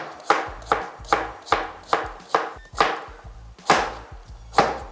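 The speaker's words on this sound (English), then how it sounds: "I'm gonna cut up the stems and the leaves. Cube 1 pound of pumpkin" A knife chops celery stems and leaves and cubes pumpkin on a cutting board, making about a dozen sharp, evenly spaced chops with a close, crisp attack and brief pauses.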